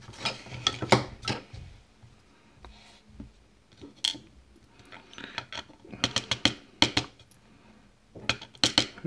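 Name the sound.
handling key pins of a Stabilit euro cylinder lock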